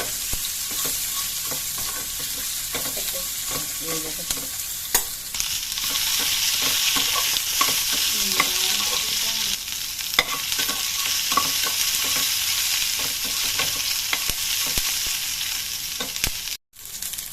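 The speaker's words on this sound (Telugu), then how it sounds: "ఉల్లిపాయలు ఇలా వేగాలి" Sliced onions frying in a pan for Telugu-style moong dal charu, a steady loud sizzle with scraping stir strokes recurring throughout, uninterrupted by voices.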